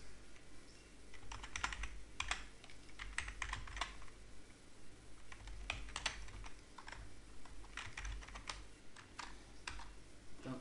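Rapid, uneven bursts of typing on a computer keyboard, close and clear, with short pauses between clusters of keystrokes and no talking.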